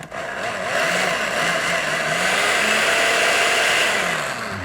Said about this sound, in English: you want to be careful when you're running a blender with hot stuff in it